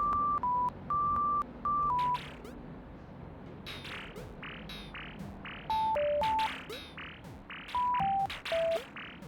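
Music video game with a character playing melody and a generated drum part: short bright synth tones in stepping patterns alongside sharp percussive hits and bursts, fairly quiet and without talk.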